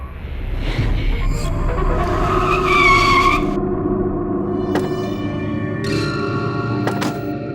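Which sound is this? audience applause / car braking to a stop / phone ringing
car braking to a stop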